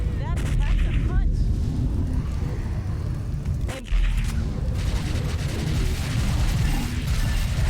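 Loud gunfire from a lightgun arcade-style video game, a dense run of rapid shots and mechanical clatter that continues almost without pause, with voices talking underneath.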